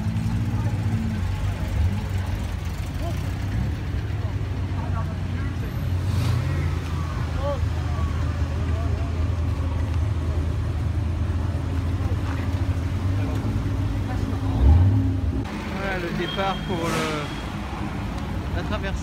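A classic Ferrari 400 at an old-car crossing of Bordeaux rumbles with a steady low engine idle and a brief louder surge near the end, heard close under people talking and general street noise.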